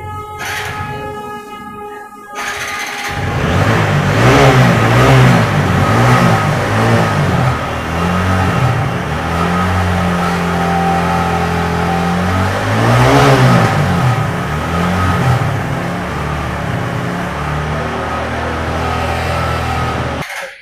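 A TVS Apache RTR 4V motorcycle engine runs close by after a restart on carburettor fuel, with a steady idle that rises and falls in several revving surges, loud and continuous with no talk over it.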